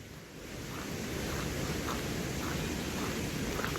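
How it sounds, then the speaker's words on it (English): Steady rushing water of Moccasin Creek beside a hiking trail in Moccasin Creek State Park, Georgia, a broad continuous wash that swells slightly at the start and holds evenly, with no voices. "That is Moccasin Creek,"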